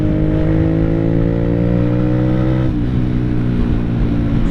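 A 2017 Honda CBR125R motorcycle with a loud aftermarket exhaust revs up with a deep, rumbling roar, holds high, then drops back to a steady idle.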